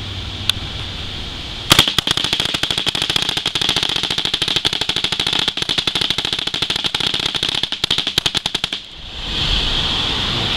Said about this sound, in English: now it is set to fire 3-shot full auto at 20 balls per second